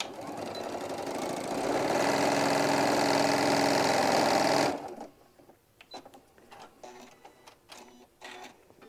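A sewing machine stitches down a pleat on a bag lining in one loud, steady burst lasting several seconds, then stops, leaving faint fabric handling and small clicks.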